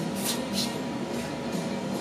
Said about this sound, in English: I just give it a little spray of silicone.